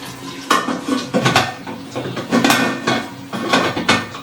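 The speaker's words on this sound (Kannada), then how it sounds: "ಮುಚ್ಚಳ ತೊಗೊಂಡಿದ್ದೀನಿ ದಮ್ ಹಾಕೋದಕ್ಕೆ." Metal lid set onto a pressure cooker of Donne biryani for dum cooking, making a series of close clanks and rattles of metal on metal with scraping between them.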